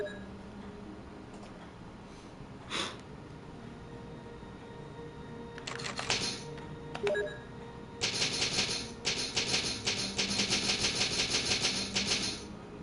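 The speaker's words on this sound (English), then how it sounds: "Love the sound of the typewriter." Typewriter clacks in the Resident Evil game, a few scattered keystrokes followed by a dense, rapid burst of mechanical typing and dinging, loud and close over a low ambient game hum, no talking.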